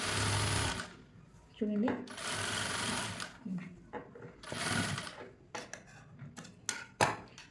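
A sewing machine stitches a blouse in loud, close bursts of rapid whirring separated by pauses, with someone speaking between and over the runs.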